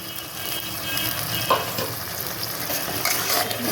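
Water goes into a frying pan of tilapia curry with mustard and poppy seed, setting off a steady hiss and sizzle with a few stirring scrapes. No one talks.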